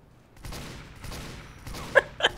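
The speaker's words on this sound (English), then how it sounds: "He shot him so many times" A Team Fortress 2 spy-versus-spy fight: a soft, scattered rattle of gunfire, then two sharp, louder shots close together near the end.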